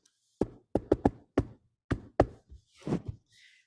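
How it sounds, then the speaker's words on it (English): Knuckles knock on a door in a loose rhythmic pattern of about seven sharp, close raps, followed by a short scuffle of softer sounds. "my door knock even matters, right? I hope that you guys can hear this."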